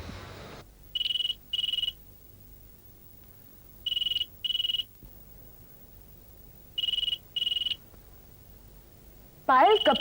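A telephone rings in a quiet room, three paired electronic trills repeating at steady intervals, clear and close, with a short burst of another sound at the very end.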